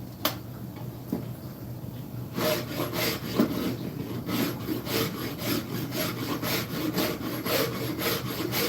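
A farrier rasp scrapes wood while thinning a handle, with steady, close back-and-forth rasping strokes in a quick rhythm that start after a quieter opening and run continuously to the end.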